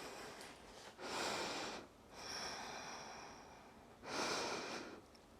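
Slow, deep breaths during a yoga pose, close and audible: two long airy exhales with quieter inhales between them, unhurried and even.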